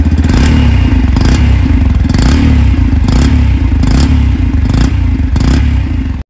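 A motorcycle with a 10-litre petrol tank runs loud and close, its exhaust and engine giving a heavy, throbbing drone that surges in regular bursts about once a second before cutting off.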